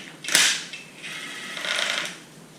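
A ratchet works close by, loosening 8mm intake manifold bolts on a 3800 V6 engine, with a sharp metallic snap and then stretches of rapid clicking.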